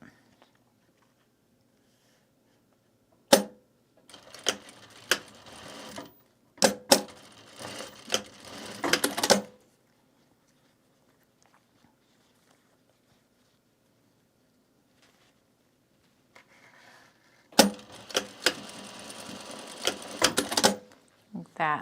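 A sewing machine stitches bag fabric for a self-drafted purse pattern in two quick, rattling bursts of several seconds each, separated by a long quiet stretch.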